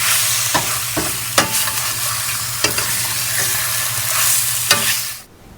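Ginger and garlic stir-fried with dried mushrooms in a hot pan: a loud continuous sizzle punctuated by several sharp spatula knocks and scrapes, cutting off abruptly near the end.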